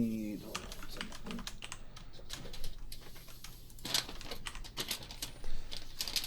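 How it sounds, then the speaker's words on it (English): Rapid clicking keystrokes from a mechanical computer keyboard patter irregularly and up close, with a pigeon-like cooing and a brief voice at the start mixed underneath. "otherwise my mechanical keyboard is just going to keep making noise"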